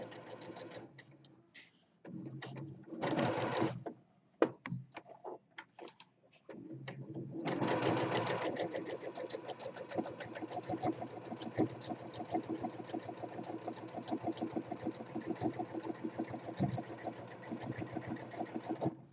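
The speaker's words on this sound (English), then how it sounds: "Okay, now back stitch, and now the staying stitch." A sewing machine stitches a fabric cover closed, running in short bursts before settling into a long steady rapid whir of needle strokes, close and clear with no talk.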